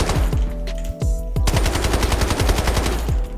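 Loud, rapid rifle fire from a scoped weapon in the Delta Force shooter game: a few opening shots, a brief pause, then a fast run of sharp, evenly spaced cracks close up, with no talk.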